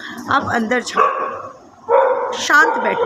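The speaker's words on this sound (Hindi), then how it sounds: "जैसे मेरे कुत्ते भौंक रहे हैं" Several dogs bark outside, with sharp yips and barks mixed into a person's steady talking, loud and fairly close throughout.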